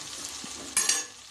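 Tomatoes cooking in a pan for an Indian vegetarian thali, a steady soft sizzle and frying hiss with a brief louder stirring scrape near the end, close by and without talk.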